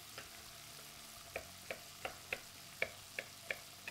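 A kitchen knife rough-chopping pecans on a cutting board, a quiet run of regular sharp chops about three per second, with faint background noise and no voices.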